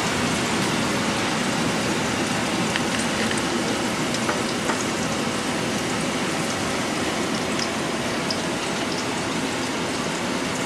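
Potato pieces fry in hot oil in an uncovered pan while making Bengali egg curry, a dense, steady sizzle and crackle that holds evenly throughout.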